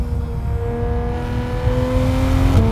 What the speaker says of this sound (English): It's got a 4-liter naturally aspirated flat 6 putting out 500 horsepower